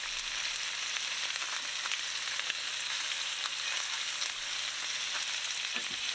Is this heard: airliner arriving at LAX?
no